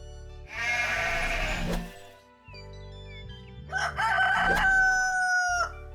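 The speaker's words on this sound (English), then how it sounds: "Sheep." Two loud, close bleats from a sheep, each a wavering, drawn-out call, separated by a short pause and heard alone without talk.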